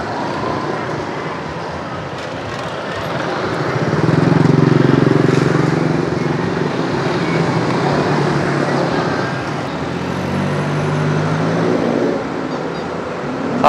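Motorcycles moving through busy street traffic in Pattaya, Thailand, with a steady roar of engines that swells as a bike passes close and then settles back into a continuous traffic drone.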